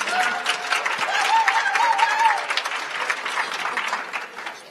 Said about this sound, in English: Don't hold your applause. You can clap.